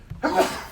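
A single short sneeze bursts out close by, a quick sharp expulsion with nobody talking around it.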